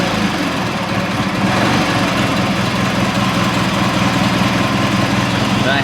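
A lawn mower's small engine runs at a steady, loud idle with a continuous low throb and rattle that holds throughout without pause.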